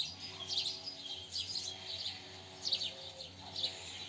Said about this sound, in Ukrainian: Чуєте, як птички співають